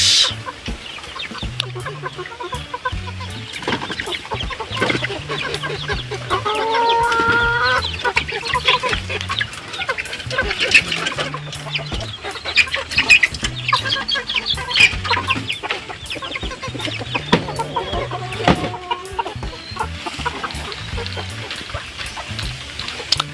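Hens and chickens cluck continuously in a coop, with repeated low clucks and occasional higher calls overlapping at close range, and bursts of louder squawking scattered through.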